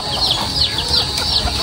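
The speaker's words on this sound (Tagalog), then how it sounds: "Sunudan na po sa kanya yung mga alaga po niyang manok." Backyard pet chickens cluck in a brief, close, loud burst of repeated short calls from several birds over a short span.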